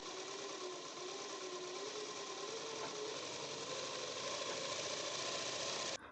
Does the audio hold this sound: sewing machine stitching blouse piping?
yes